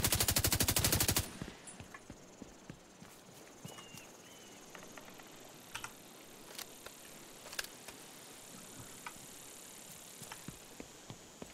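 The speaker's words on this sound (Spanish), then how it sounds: "Es el sonido que tiene cuando impacta las balas contra los bambús." Bullet impacts on bamboo in The Division 2 video game: an opening burst of rapid gunfire, then scattered sharp cracks and woody clicks at irregular intervals over a quiet, low ambient bed.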